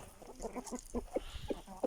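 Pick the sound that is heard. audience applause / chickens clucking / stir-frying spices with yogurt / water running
chickens clucking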